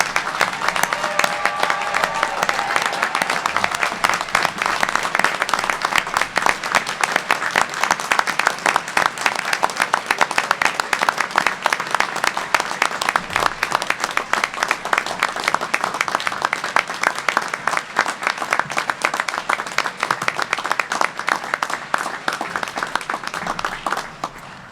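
A graduation ceremony audience applauds the graduates with dense, loud, sustained clapping that fills the hall for about twenty-five seconds before starting to thin.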